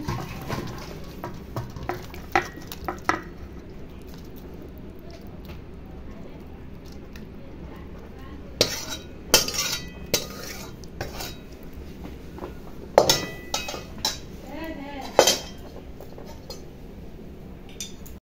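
Jackfruit kofta curry is poured out of a pan, giving a series of clinks and scrapes of metal cookware. A few sharper knocks come in the second half against a low, steady kitchen background.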